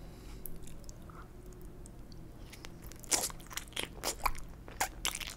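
Close, quiet crunchy bites and chewing of sushi and shrimp fried rice, scattered crisp crackles that grow busier in the second half, with no voices.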